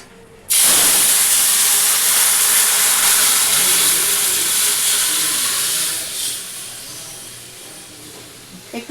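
Masoor dal for a sour Bengali lentil dish with amra (hog plum) is poured into a hot pan, bursting into a loud, close, roaring sizzle that holds steady for several seconds before slowly easing off.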